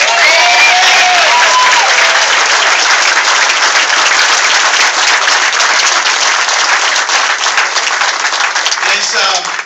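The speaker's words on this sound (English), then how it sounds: "how about a rousing round of applause for the current and future Deputy Borough President, the great Ed Burke." Loud, sustained applause from a large crowd at an acceptance speech in Staten Island, New York, dense clapping with scattered cheers and voices throughout, fading slightly at the very end.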